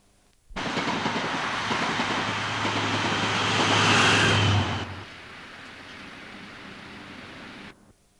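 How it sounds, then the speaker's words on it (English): A St Pancras bound HST passenger train heads towards Dore Junction after light snow, roaring loudly past for about four seconds with a low engine hum, then fading to a steady softer rumble as it moves away. "another St Pancras bound HST set heads towards Dore Junction"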